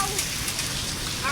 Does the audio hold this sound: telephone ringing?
no